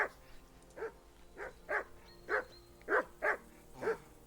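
A dog barks repeatedly in Kingdom Come: Deliverance 2, about eight sharp woofs at a steady, moderately near pace over quiet background ambience.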